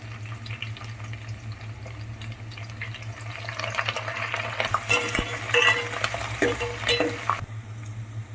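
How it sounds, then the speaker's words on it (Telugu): Onion pieces and curry leaves crackle in hot oil for a Telugu dal-rasam tempering, a steady sizzle with a few spoon scrapes and stirring clinks, louder toward the end, with no voices. "ఉల్లిపాయ ముక్కలు కూడా యాడ్ చేసుకున్నాను చక్కగా వేగిపోతున్నాయండి"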